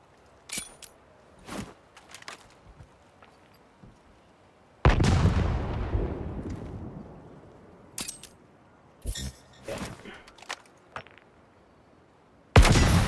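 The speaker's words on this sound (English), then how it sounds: "Now try the grenade. It can get where bullets can't." Grenade explosions in the Highguard video game: two heavy booms with long rumbling decays, one mid-clip and one at the end, between scattered sharp gunfire-like pops and quieter game noise. No talking.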